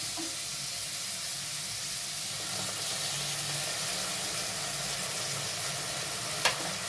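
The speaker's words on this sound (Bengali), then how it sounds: "এবার দিয়ে দেব বাটা মশলাটা।" Ground spice paste with nuts fries quietly in a wok for a vegetarian chhanar dalna, a soft continuous hiss and sizzle with a faint stirring scrape and one small click near the end.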